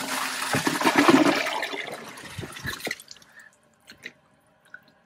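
Toilet flushing a water-saturated sponge, a loud rushing flush that fades after about three seconds into trickles and a few drips.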